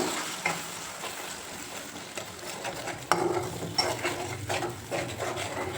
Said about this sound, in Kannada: ನೀಟಾಗಿ ಮಿಕ್ಸ್ ಮಾಡ್ಕೊಳ್ಳಿ ಎಲ್ಲ.